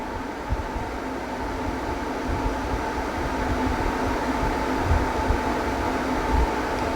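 Dyson Hot + Cool fan running at speed 9, a steady broadband airflow rush with a faint tonal hum, constant and close with small bumps, no one speaking.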